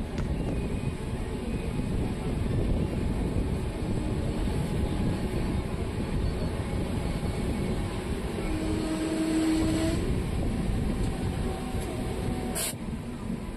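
A general passenger train rolls slowly through Akkalkot Road station, heard from aboard as a steady, loud rumble and wheel noise throughout, with a faint squeal rising briefly near the middle.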